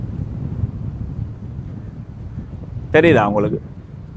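Strong wind buffeting the microphone at Pannai Beach in Jaffna, a steady low rumble throughout with a brief voice breaking in near the end.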